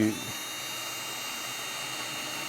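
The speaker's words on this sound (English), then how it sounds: "I'm going to use the 3mm drill bit" An electric drill fitted with a 3mm bit runs steadily while boring pilot holes for a marimba build, a constant high-pitched whine close by after a brief initial bump.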